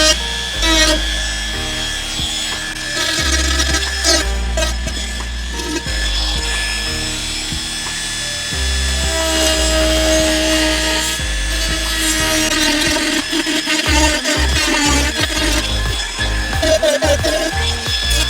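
Sharp edges of a metal bumper part for a Sprinter 4x4 camper van being smoothed with a grinding or filing tool, a continuous loud abrasive whine and rasp that varies in pitch, close up with no talk.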